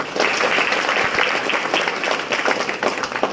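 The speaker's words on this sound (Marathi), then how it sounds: "एकदा त्यांच्यासाठी आपण जोरदार टाळ्या वाजवूया" An audience at an event applauding the chief guest, dense sustained clapping from a crowd filling the room, steady and loud throughout.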